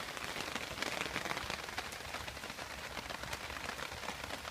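Rain falling on a campsite during wild hammock camping, a steady dense patter of drops on surfaces, even and continuous, fairly close with no voices.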